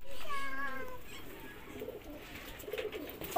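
Pigeons coo softly for a moment, a low wavering call, followed by faint shuffling and rustling nearby.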